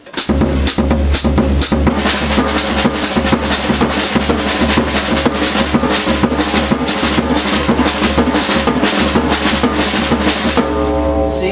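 Samba pattern on a drum kit from Alan Dawson's drum ritual exercise, a continuous, driving stream of fast even strokes played loud and close, with no voices, until it rings out at the end.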